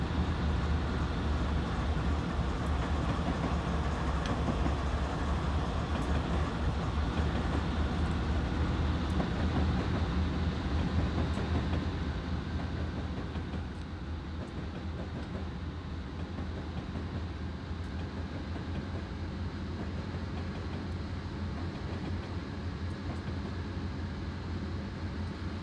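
A BNSF ES44 DC locomotive in Train Simulator 2016 on Marias Pass rumbles on continuously, a steady heavy engine drone with rail noise that softens slightly midway.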